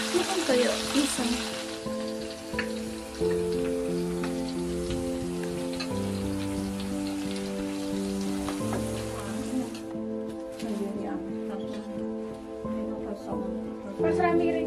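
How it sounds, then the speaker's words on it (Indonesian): Cassava pieces frying in oil in a home kitchen, a continuous loud sizzle and crackle throughout, with people talking and music-like tonal sounds layered over it. "sibuk menggoreng singkong"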